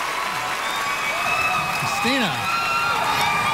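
A live audience at a televised singing show claps and cheers in a steady, full wash of applause, with a voice speaking over it.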